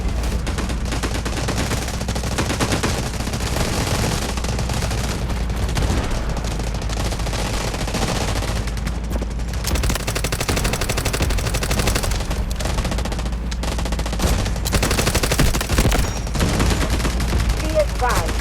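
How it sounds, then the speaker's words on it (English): Continuous battlefield din from the Delta Force Mobile shooter game, with an artillery barrage and gunfire: rapid overlapping gunshots, machine-gun bursts and heavy low rumbling explosions, loud and unbroken, with voices mixed in. "Artillery barrage incoming."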